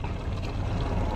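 A small boat moves out on the sea, its engine rumbling with steady, loud, continuous water rush close by.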